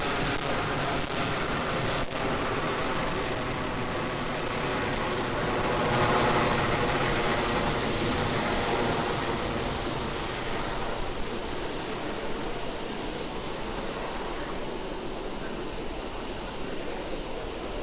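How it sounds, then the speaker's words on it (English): A Falcon 9 rocket carrying Starlink satellites roars after liftoff as a steady, dense, broadband rumble that holds for the whole stretch and swells slightly midway, like heavy rain or distant surf. "we've just had a nominal liftoff of our Falcon 9 vehicle carrying our Starlink payload"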